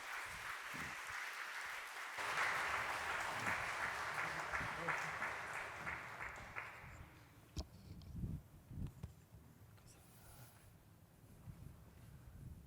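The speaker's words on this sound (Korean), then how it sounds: "박수로 한번 우리가 환영하면서 간단히 보고받도록 하겠습니다" Audience applause welcoming a missionary speaker at a church gathering, a steady broad wash of clapping for several seconds that fades out, followed by scattered footsteps and small bumps in the hall.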